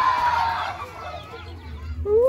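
Poultry cluck and call close by on a farm, with a gobbling, warbling turkey cry at the end over low farmyard rumble.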